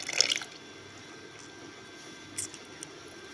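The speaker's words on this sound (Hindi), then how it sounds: "हम इसमें दूध ऐड कर देंगे" Milk is poured into chocolate marble cake batter, giving a short soft splash right at the start and then a few faint drips in a quiet kitchen.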